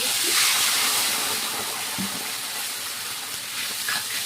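Water poured into a pan of frying spice paste made with ground cumin sets off a steady, broad steam hiss that fades slightly after the first second and then holds on its own.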